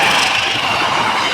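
The Brantas passenger train passes through Ngadiluwih station, a loud close rush of rolling wagons with a bright metallic hiss and faint wheel squeal, no voices.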